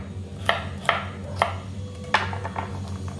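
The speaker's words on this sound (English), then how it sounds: "remember, hold the knife very nicely. And we cut it, and go right here like this." A knife chops vegetables for a beef bottom roast on a cutting board, four or five crisp, evenly spaced cuts close up at a steady pace, with a low hum underneath and no talking.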